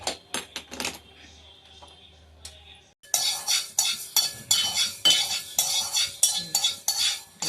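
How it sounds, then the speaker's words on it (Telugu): Fenugreek seeds dry-roasted and stirred in a pan on the stove for a chutney: a few sparse clicks at first, then steady, close, rhythmic scraping and clinking of a spoon against the metal. "ఇవన్నీ సెమ్మి మీద పెట్టి వేయించుకోవాలి."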